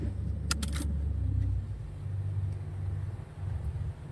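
Diesel engine of a Sany SY75C excavator idling with a steady low rumble as the throttle is raised, plus a few brief metallic clicks near the start, close and continuous with no talk.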